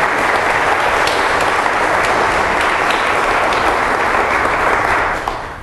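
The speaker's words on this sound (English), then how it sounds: "Let's give him a round of applause and welcome him to Marquette Law School." A large audience applauds steadily and loudly for a welcomed guest at a law school event, a dense wash of clapping that holds for several seconds before starting to fade at the end.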